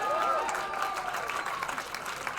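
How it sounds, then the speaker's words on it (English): An audience at the Global Game Jam 2020 final presentations claps and cheers together, a dense, steady wash of applause filling the room and fading slightly toward the end. "Give yourself a round of applause."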